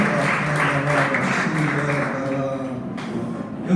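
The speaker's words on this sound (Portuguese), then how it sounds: "Aplauda o Senhor e sempre." A church congregation applauds during a worship service: a loud, steady wash of clapping that carries on throughout, with a sustained tonal musical backing underneath and no clear speech.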